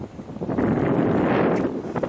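Wind gusting past a riverside spot, a steady buffeting rush against the microphone that swells through the middle and eases slightly toward the end, with no talking.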